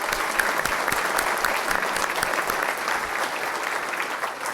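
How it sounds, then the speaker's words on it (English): A large audience at a city's State of the City address breaks into sustained, dense applause honoring city staff, with steady clapping throughout and no talk over it. "So I'd say that deserves a huge round of applause to our city staff"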